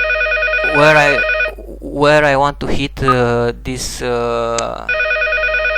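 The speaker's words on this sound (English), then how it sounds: "my phone is ringing" A mobile phone ringtone plays a repeating electronic melody that starts and ends the stretch, with someone talking loudly over the middle while it keeps ringing underneath.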